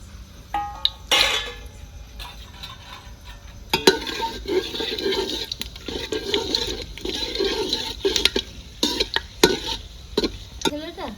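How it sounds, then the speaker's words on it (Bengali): Whole spices (bay leaf, cinnamon, mace, cloves and small cardamom) dropped into hot oil in a pot for chicken pulao: bursts of crackling sizzle broken by clattering pot and spoon knocks, close and fairly loud, no speech. "তেজপাতা দিচ্ছি বন্ধুরা দালচিনি এক টুকরো জৈত্রী লবঙ্গ ছোটো আলাই সব একসঙ্গে দিয়ে দিচ্ছি"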